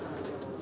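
Pigeons on a rooftop in Rawalpindi in the evening give a brief, soft cooing murmur, faint and alone.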